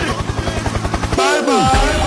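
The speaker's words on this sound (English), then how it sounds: "Helicopter, helicopter." A helicopter sound effect gives a loud, rapid rhythmic thudding of rotor blades for about a second, then breaks into a swooping, descending whine with a voice mixed in.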